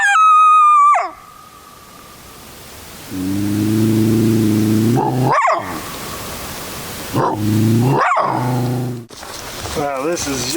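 A coyote caught in a trap in Missouri lets out loud, sustained barks and yipping howls, several drawn-out cries separated by pauses and a sharp yelp, heard close by.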